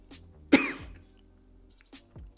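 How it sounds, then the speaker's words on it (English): A single harsh cough bursts out close by, followed by quieter throat sounds and a faint second cough near the end. "Sorry guys for the coughing"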